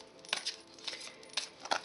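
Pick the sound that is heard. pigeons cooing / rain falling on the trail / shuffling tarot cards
shuffling tarot cards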